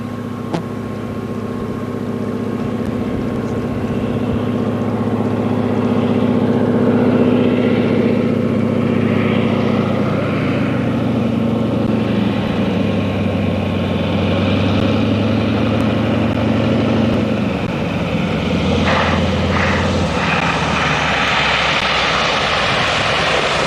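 A float plane comes in to land near an island in Alaska, its propeller engine droning loud and steady for the whole stretch, the pitch shifting slightly as it throttles, no talk.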